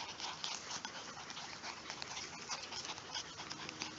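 Six-week-old Norwegian Buhund puppies scampering close by, a busy, continuous patter of small paws with soft whimpers and panting, and no clear talk.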